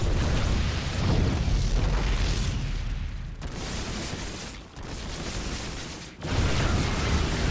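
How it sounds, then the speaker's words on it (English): Disruptor balls detonate in a StarCraft 2 match between ROGUE and HERO: loud, dense booming blasts pile up almost continuously, with two short lulls between the waves of explosions. "so much disruptor balls shooting out"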